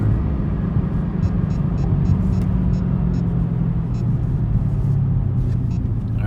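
Chevrolet Camaro ZL1 1LE held in second gear at low road speed, its engine a steady, loud low rumble with constant road noise from inside the cabin, no voices.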